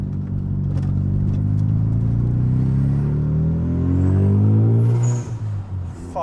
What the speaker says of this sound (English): And is that the HKS ball valve going?